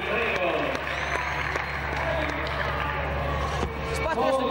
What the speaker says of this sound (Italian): si merita un bel applauso